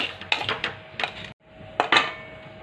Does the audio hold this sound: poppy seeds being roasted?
yes